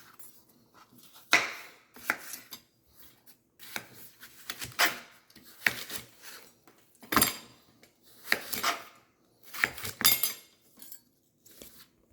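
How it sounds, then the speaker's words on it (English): A knife slicing a giant zucchini into thin pieces on a board, a series of crisp, irregular chopping strokes close up, with no talking. "I'm going to slice them thin"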